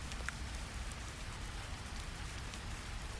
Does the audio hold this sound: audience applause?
no